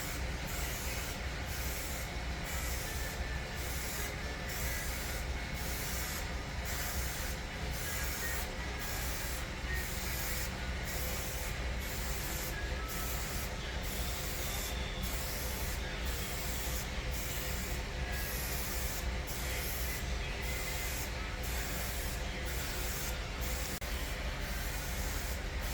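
Undercoating, a grease-and-tar mix, is sprayed onto a vehicle in a steady, continuous hiss with regular rhythmic pulses, fairly quiet and unbroken, with no voices.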